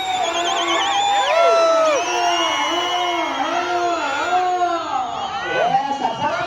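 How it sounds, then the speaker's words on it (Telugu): At a bull-pulling competition in Yemmiganur, a crowd shouts and cheers loudly in wavering, overlapping cries, close and continuous throughout, with talk mixed into the din. "ముఖ్యం గట్టిగా కేకలు"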